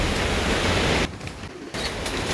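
Heavy rain pours down around a pigeon loft as a dense, loud, even hiss. It dips briefly in the middle before returning at full strength.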